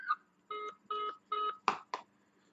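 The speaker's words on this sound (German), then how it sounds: "schon klingelt es hier an meinem Telefon und man hört es" Smartphone ringing during a call test with an Omate X smartwatch: three evenly spaced electronic ring tones followed by two short bursts, clear and close in an otherwise quiet room.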